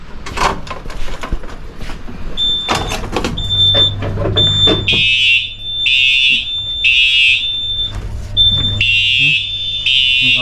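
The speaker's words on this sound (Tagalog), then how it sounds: "sa isang shop na ating titestingin yung fire alarm" A fire alarm in a shop sounds during a test in loud, pulsing bursts of high electronic tone, repeating steadily over a low hum, after some clattering noises at the start.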